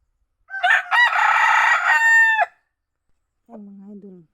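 A red junglefowl (labuyo) rooster crows once, loud and close, in a full two-second call, followed by a shorter, fainter second call with no voices.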